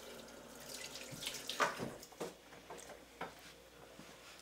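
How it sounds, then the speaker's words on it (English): Running tap water splashes faintly while hands are washed at a sink, with soft irregular patters and drips, quiet and close, with no voices. "I'm going to wash my hands."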